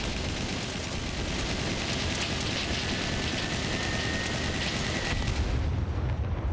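Rapid rocket blasts fired by a mech robot in the SCUM video game, a dense continuous roar of explosions close up and loud throughout, with a sharper burst near the end.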